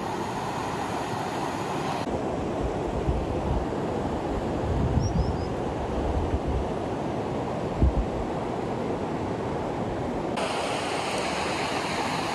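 River rapids in the Ural mountains pour over a rocky drop in a steady, loud, close rushing roar of turbulent water, with a few low thuds rising out of the constant flow and no one speaking.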